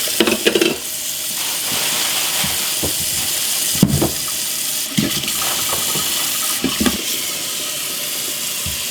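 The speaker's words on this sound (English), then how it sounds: "Now I'm going to give them a good washing" Peeled potatoes being washed in a kitchen sink, with running water splashing and swishing continuously, broken by a few sharper knocks and sloshes as the potatoes are moved around in the water.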